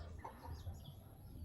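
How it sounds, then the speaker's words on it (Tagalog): Soft clucking from a chicken, a few short throaty calls, faint and somewhat distant over low background rumble. "Manok ko."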